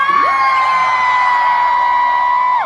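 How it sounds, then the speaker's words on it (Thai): A concert crowd screams and cheers at a show during the Macao Wonder 2025 event at Siam Paragon. A loud, sustained wall of high-pitched shrieking holds steady for the whole stretch, close and without pause. "เพลงสุดท้ายว่าเสียงกรี๊ดเสียงกรี๊ดครั้งสุดท้ายของทุกคนได้ไหมคะ"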